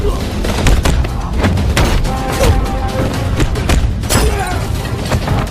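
A film fight scene with gunfire and brawling, heard as a loud, dense barrage of bangs, thuds and crashes that continues without a break.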